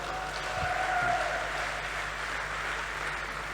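Audience applause at a national youth conclave with a Hindi comic poetry performance, a steady wash of clapping from a crowd, sustained and fairly loud throughout.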